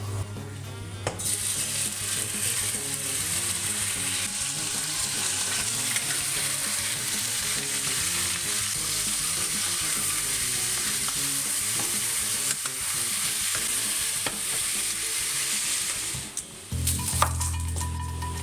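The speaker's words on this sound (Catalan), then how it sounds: "i ara en una cassola hi posem un raig d'oli i hi posem a fregir la carn" Meat sizzles loudly and continuously in hot oil in a casserole pot while cooking Catalan Patates d'Olot, with occasional stirring scrapes; the frying settles toward the end.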